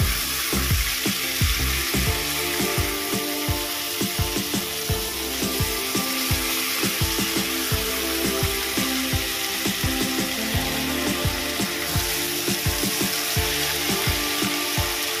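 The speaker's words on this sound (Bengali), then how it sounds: "আমি আদা রসুনটাকে ভালো করে মিশিয়ে নেব।" Ginger, garlic and green chili paste sizzles and fries in a pan, with steady crackling hiss and repeated scraping clicks of a spoon stirring it, close and continuous.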